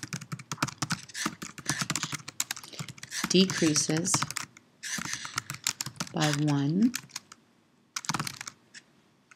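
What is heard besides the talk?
computer keyboard typing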